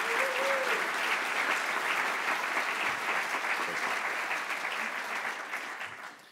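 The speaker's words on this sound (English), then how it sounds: "Let's give them a round of applause." Sustained applause from a conference audience at a national security forum keynote, dense steady clapping that holds strong and then slowly fades toward the end.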